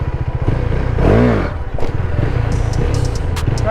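Motorcycle engine revving hard during wheelie practice, a steady throttle drone with a sharp rising and falling pull near the middle, mechanical clatter and scraping around it, close and loud.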